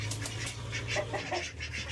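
Ducks quack and chickens cluck together in a steady, busy chorus over a low background hum, fairly close.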